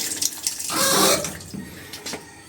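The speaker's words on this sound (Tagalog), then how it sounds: "Malinis at malakas yung tubig." Running water gushes strongly from a shower tap at a campsite for a couple of seconds, a steady splashing rush that swells in the middle and then eases off.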